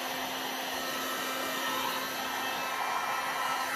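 A heat gun or hair dryer blows hot air over resin in a 3D flower coaster mould, a steady, close, unbroken whoosh with a faint motor whine and no voices.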